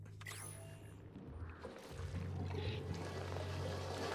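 Water drains steadily in the video game Oxygen Not Included, a continuous pouring rush over a low mechanical hum that grows slightly fuller partway through.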